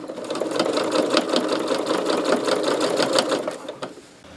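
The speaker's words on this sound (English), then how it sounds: "I'm going to sew 3 sides of this" Close, loud sewing machine stitching a seam along the edge of a muslin heat pad, a fast continuous rhythmic whir and needle chatter that eases off just before the end.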